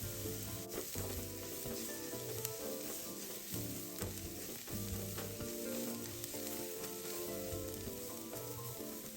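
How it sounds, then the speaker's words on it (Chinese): Minced garlic added to shallot slices already frying golden in hot cooking oil, giving a steady, dense sizzle with light stirring scrapes throughout, close and fairly loud, no voices. "油爆至葱片一点金黄色后，接着再将蒜末加入，"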